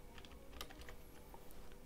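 Code typed on a computer keyboard during a Python programming lesson, with soft, quick, irregular key taps heard faintly and close against a steady background hiss.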